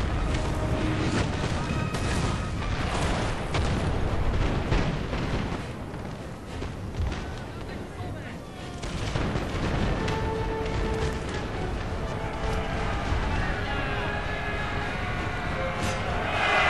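Dense, continuous roar of a Napoleonic battle in Napoleon Total War, with cannon booms and rippling musket volleys blending into a heavy wash of gunfire, loud and unbroken.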